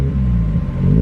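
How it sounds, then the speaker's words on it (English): A Mazda Miata's exhaust revs steadily and close by, giving a deep, smooth, low rumble that holds fairly even and swells slightly toward the end, with no talking. "let's get a little sound clip of the exhaust"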